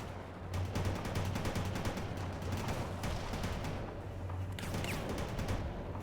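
Sustained gunfire in the war game World in Conflict, with dense overlapping bursts and rattling automatic fire continuing throughout over a low rumbling battle bed, no talking.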